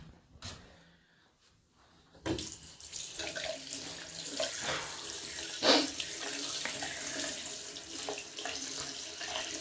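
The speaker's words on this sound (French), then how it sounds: "Je vais pas rester 10 minutes sur le robinet d'eau quand même." Water runs from a household tap into a sink, a steady broadband hiss that starts after a quiet opening and continues at moderate level with a few clinks and handling knocks.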